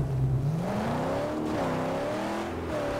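An upgraded, stronger car engine in the video game Mad Max revs up, a loud throaty roar climbing and falling in pitch, with no talking over it.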